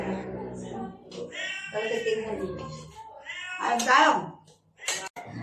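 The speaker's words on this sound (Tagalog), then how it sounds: "Pati naman pusa ko dyan ay talagang hiyaw-hiyaw na nangiyaw." A cat meows loudly several times in drawn-out, insistent cries after smelling grilled milkfish, with a person's voice mixed in at moments.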